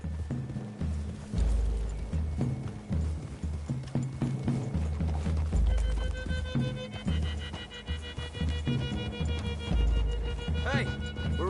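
Horses are ridden through trees toward a clearing in Red Dead Redemption, with a continuous rhythmic clip-clop of hooves under people talking and a music bed that rises partway through.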